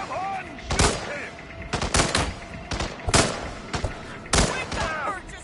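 Gunfire in the Hitman video game: several loud, sharp bursts of shots at uneven intervals, mixed with game voices and background sound.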